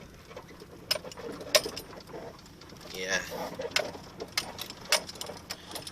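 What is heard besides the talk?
squeaking of a 1992 Volvo 244 car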